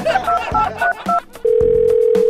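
A toy phone in a children's doctor play game being dialed: a few short electronic button beeps, then a loud steady dial tone held close up, with a voice briefly heard.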